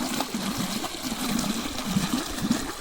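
Irrigation water flowing steadily through a farm channel, a continuous trickling, gurgling rush, moderately close and unbroken throughout, with no voices.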